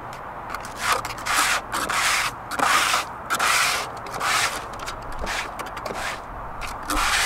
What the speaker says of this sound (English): we'll use the flow control there to scrape out the sluice, get all that magnetite into the pan here